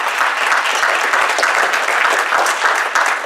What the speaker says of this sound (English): You can applaud.